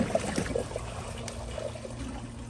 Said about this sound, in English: So here's another bucket flush.